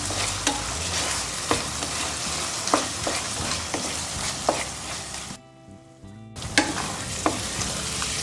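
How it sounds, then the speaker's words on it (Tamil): Ground masala sautéing in oil in a pan for mushroom masala, a loud continuous sizzle with periodic sharp scrapes of a spatula stirring, briefly cutting out before resuming. "மசாலா வந்து கொஞ்சம் வதக்கிடலாம்"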